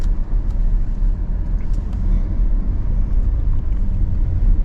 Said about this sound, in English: nothing like just driving past the Humvee with a few army guys in it